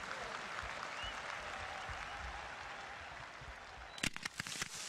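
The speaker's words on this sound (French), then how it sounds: "Les applaudissements du public entre les tableaux est l'indication de sa réussite." An audience applauds a fireworks show outdoors, a broad patter of many clapping hands heard from a distance, with a few sharper nearby claps toward the end.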